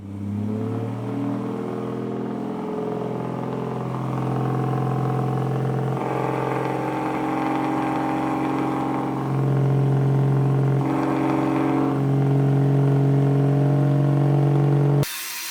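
A Nissan Laurel's engine revs loudly and up close, the exhaust note climbing and holding in stepped surges over several seconds before cutting off abruptly.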